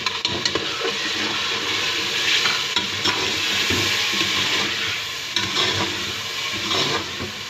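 Tomatoes are tipped into a pan of frying urad dal gosht, loud sizzling and crackling with scraping stirs and occasional clatters, close and continuous without talk.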